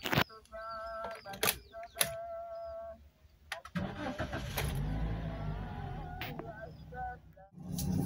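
A five-year-old 2018 Toyota Agya TRD S with about 100,000 km cranks and starts, then settles into a steady mid-pitched engine hum as the car pulls away, with clicks and thumps from the cabin early on.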